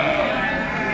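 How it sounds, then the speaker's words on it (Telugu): Goats bleat amid the crowd at the Kunta goat market, where young male goats are penned for sale; the calls blend into a dense, continuous wash with people talking over them. "బాగానే ఉన్నాయి మేకలు."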